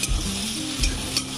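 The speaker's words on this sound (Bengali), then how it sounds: "ঠিক আছে, পেঁয়াজটা ভাজা হয়ে যাক" Sliced onions fry in a pan with a constant close sizzle, while a spoon or spatula stirs and scrapes them in a few distinct strokes.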